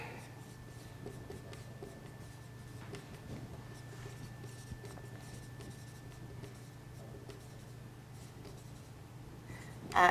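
Chalk or marker writing a conclusion on a classroom board, faint scratchy strokes in short irregular bursts over a low steady hum, with a louder knock at the very end.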